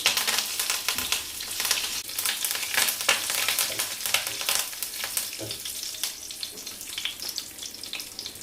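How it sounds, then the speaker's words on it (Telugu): Onions and curry leaves crackle and sizzle in hot oil as a tempering for cucumber chutney, a close, busy frying hiss with scattered pops that continues without talk. "తాలింపు వేగిపోయిందండి"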